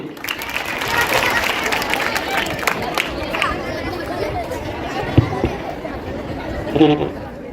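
An audience at a mushaira, a humorous Urdu poetry gathering, applauds as a candle is lit to open the event, a sustained patter of clapping mixed with crowd chatter.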